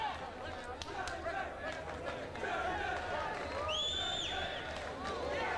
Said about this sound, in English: Crowd trying to get behind Wallace,